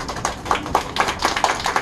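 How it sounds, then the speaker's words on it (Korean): Korean Arirang tour group clapping together outdoors at the old railway by Gunsan inner harbour, a steady run of sharp handclaps, fairly close and alone without talk. "박수를 한번 치도록 합니다."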